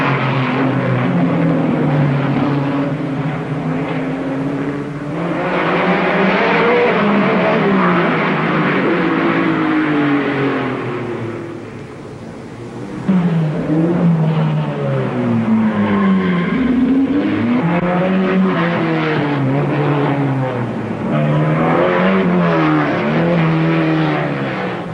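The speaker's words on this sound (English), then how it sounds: "Hill's Ferrari, Harry Schell's BRM and Brooks's Ferrari" Vintage Formula One race cars, Ferraris and a BRM, racing past, loud sustained engine howl rising and falling through gear changes with passing swells, nearly continuous with a short dip midway.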